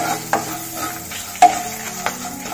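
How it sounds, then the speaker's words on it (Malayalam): Salt and turmeric powder being stirred into frying chillies in a pan for a Kerala tamarind dish, with a low sizzle and a few sharp scraping knocks of the spoon. "അതിനുശേഷം ആവശ്യത്തിന് ഉപ്പും കുറച്ച് മഞ്ഞൾപ്പൊടിയും ഇട്ടൊന്ന് ഇളക്കി കൊടുക്കുക."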